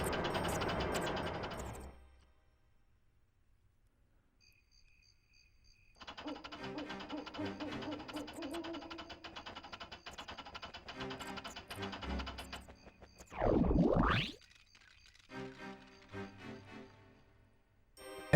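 A winch is reeled in inside Donkey Kong 64, its ratcheting mechanical clicks grinding in long runs with pauses between, joined by a rising-falling whoosh partway through and more ratchet clatter after it.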